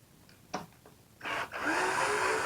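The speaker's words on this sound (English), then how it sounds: "I don't know if this drill's gonna make it." A power drill backs screws out of the plate of an Arrma Granite RC car, a few short clicks and taps followed by a rising, sustained whir of the motor at close range.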